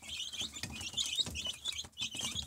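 Brown Nick chicks sitting under an infrared heat lamp give a continuous chorus of high, thin cheeping, many overlapping peeps close by and fairly quiet.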